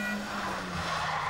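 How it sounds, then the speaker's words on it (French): A stunt car slides backward at high speed in a handbrake skid, a steady rough roar of engine and tire noise running loud and continuous throughout. "il va nous faire un dérapage contre l'arrière à 180 à l'heure"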